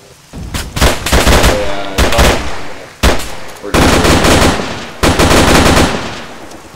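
Gunfire from a firefight in the video game Arma 3, loud bursts of automatic fire in several separate volleys with brief gaps between them, close and harsh.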